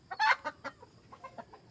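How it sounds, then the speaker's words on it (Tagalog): A few short, quick chicken clucks close by, loudest at the start and then tapering into softer, scattered clucks. "Yung manok kumakulit."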